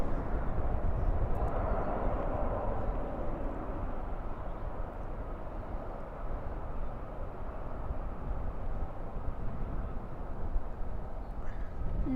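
A Boeing 767 airliner taking off at night at Dallas/Fort Worth airport gives a steady, loud, broad engine roar that holds evenly throughout without pauses, heard from a distance across the field.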